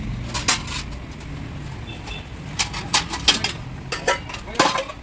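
Steel plates clatter and clink in a household goods shop, a string of sharp metallic knocks and rattles coming in bursts as they are handled, with people talking faintly in the background.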